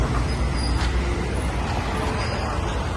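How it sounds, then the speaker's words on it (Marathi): Dense, heavy road traffic rumbles steadily on the way to the Ekvira Devi temple near Lonavla, with bus and truck engines, air brakes and passing vehicles forming a loud, continuous wash of noise. "जाम हेवी ट्रॅफिक आहे"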